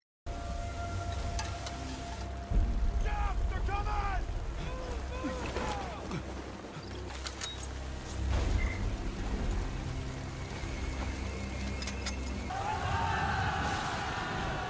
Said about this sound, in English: You gotta sleep in the rain like this.